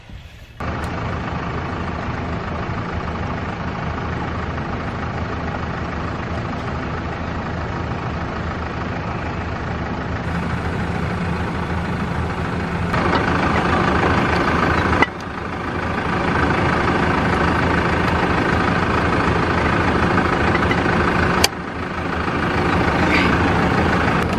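A John Deere Moco tractor's diesel engine idles steadily and loudly for the whole stretch, with a deep continuous rumble that shifts slightly in tone partway through and a couple of brief clicks.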